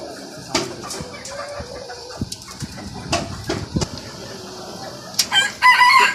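Roosters and hens at a fancy poultry farm in Rajshahi, including Colombian Brahma chickens, give scattered clucks and calls before a loud, close rooster crow bursts out near the end.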